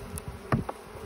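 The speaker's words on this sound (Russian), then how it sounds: "Пчелки наши Бакфаст." Buckfast honey bees buzzing at an opened hive, a close, brief cluster of droning hums and passing buzzes with no talk.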